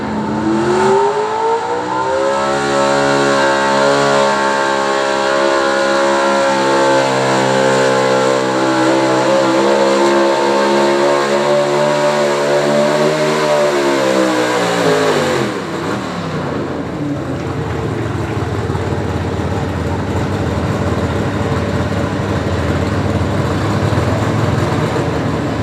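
A 1986 GMC pulling truck at a truck and tractor pull, its engine screaming at high revs for about fifteen seconds as the pitch climbs and holds, then dropping sharply when the run ends, leaving a lower rumble, loud and close.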